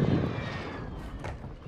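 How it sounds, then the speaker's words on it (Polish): Airstrike aircraft roaring overhead in Warzone 2.0, a loud jet-engine whoosh that starts strong and slowly fades over less than two seconds, with no speech. "Nalot rzucam dla nich"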